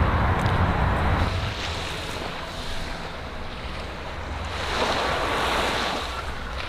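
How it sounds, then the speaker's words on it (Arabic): Sea waves breaking on the beach at Ramlet al-Bayda in Beirut, a continuous roaring wash that swells and recedes with wind buffeting the microphone, and no voices. "وهاي وصلنا على البحر، وهاي الرملة البيضة، أحلى مكان شعبي للسباحة ببيروت."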